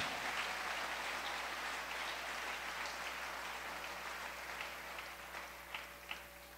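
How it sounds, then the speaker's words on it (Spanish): A church congregation applauds during a Spanish-language service, a steady wash of many hands clapping at a moderate level with a low hum underneath, tapering slightly toward the end. "Aplauda a Dios realmente en esta mañana"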